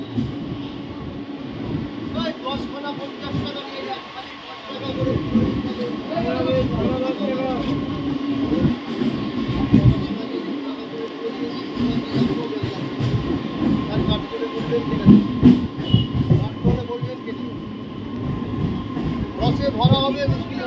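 A Howrah–Midnapore line local train pulls away from Uluberia station, its rumble and wheel noise steady and close throughout, with a constant hum and voices of passengers chatting inside the carriage.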